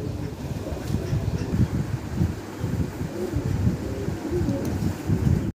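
Bombay pigeons kept as breeding pairs coo in a low, continuous pulsing drone, with wind rustling over the microphone throughout.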